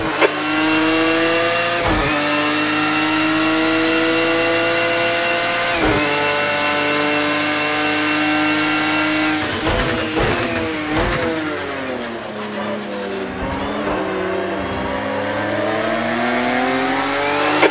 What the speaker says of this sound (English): You're locking your left front, braking for turn 10.